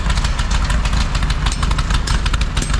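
A 1969 VW Baja Bug engine idles loudly and close up after being started for the first time in a year and a half to two years, with a rough, fast, steady pulsing chug and no talk.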